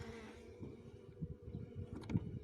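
Honey bees buzz around an open hive, a soft, steady hum of many insects nearby, with faint handling sounds and light knocks in the background.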